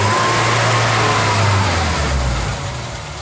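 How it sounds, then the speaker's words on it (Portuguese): A Ford Belina car engine revs loudly and steadily up close as the car is driven up onto a workshop ramp, its low drone holding strong before easing off slightly near the end. "a primeira coisa que eu vou fazer é subir o carro na rampa aqui"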